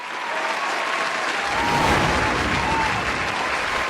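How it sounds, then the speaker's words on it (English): A live audience at a Welsh talent contest quarter-final bursts into loud applause for a contestant, clapping that swells within the first second and stays full and close, with scattered cheers and no talk. "massive round of applause for"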